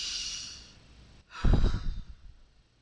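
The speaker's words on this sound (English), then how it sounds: "Take a deep breath." A person draws a slow, deep breath, a soft airy inhale that swells and fades, followed by a fuller, louder exhale close to the listener, with no one speaking.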